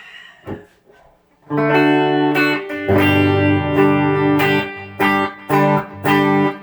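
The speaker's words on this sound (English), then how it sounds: "I'll turn the Twin Reverb on." Electric guitar plays through a Klon-style overdrive and Fender Twin Reverb amp, a quiet pluck then loud, full chords and short stabs in a loose rhythm, close and clear.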